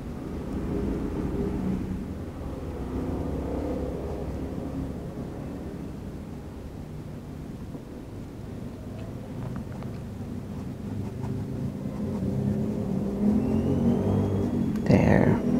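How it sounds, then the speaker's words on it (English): Motorcycles passing outdoors as a low, continuous engine rumble that swells and fades, muffled by wind noise and partly under talk, rising toward the end. "I don't know what you're doing with the motorcycles"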